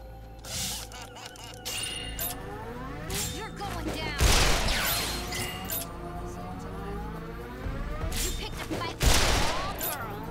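Gunfire in the video game Resonance of Fate rings out in repeated sharp bursts with whizzing, ricocheting tones in between. Heavy impacts land roughly every few seconds over a busy, moderately loud game soundscape.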